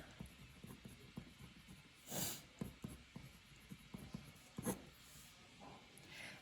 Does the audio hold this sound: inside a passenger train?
no